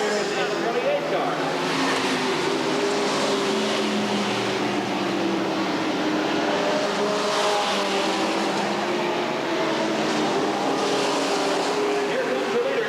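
Street stock race cars roar around Redwood Acres Raceway in a 1989 main event, their engines a continuous loud, droning wash with whining pitch shifts as they pass. A voice talks over the racing noise.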